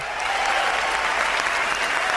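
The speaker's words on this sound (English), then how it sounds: "you hear some of them react with cries of excitement" A crowd cheers and applauds at a televised bachelor-show event with a Canada-themed audience, a steady dense wall of clapping and excited cries that stays loud throughout with no gaps.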